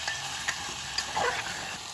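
Mutton with coriander and cumin powder sautés in oil, a close, soft sizzle with a few quick stirring taps and scrapes over two seconds.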